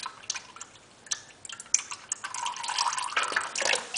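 Engine oil drains from an Infiniti G37S, heard as an irregular patter of drips and a light trickling flow that grows more continuous toward the end, close and moderately loud.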